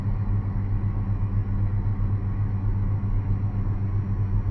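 Inside the cab of a John Deere F9 prototype forage harvester, a steady low engine and hydraulic rumble drones on without a break while the corn head unfolds, loud and even throughout with no talking.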